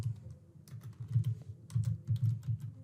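Fingers type on a computer keyboard in quick, uneven bursts of soft clicks, close by and fairly quiet, with a brief pause midway.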